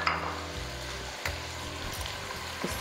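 Carrots, bell pepper and potatoes frying in a pan for degi chana pulao give a steady close sizzle, with brief scraping stirs and light utensil knocks throughout.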